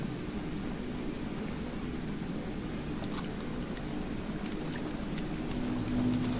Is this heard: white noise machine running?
yes